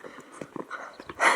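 A puppy plays in deep late-season snow, snapping at and eating snowballs, with a few soft, close panting puffs and scuffles followed by a louder rustling burst at the end.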